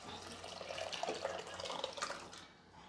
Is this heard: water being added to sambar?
yes